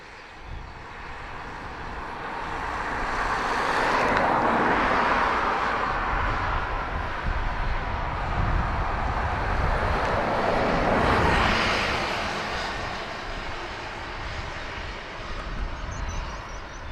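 An airliner taking off from Dublin Airport runway 28 right, a broad distant engine roar swelling, holding loud for several seconds and then slowly fading away, with no talk.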